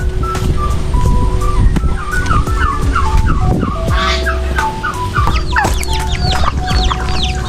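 Backyard chickens cluck loudly and continuously, several birds calling over one another in a busy poultry yard, with sharper calls crowding together toward the end.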